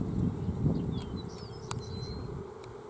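Honey bees crowd a hive frame from two different hives, a close, continuous buzzing drone with a few passing wingbeat whines over it.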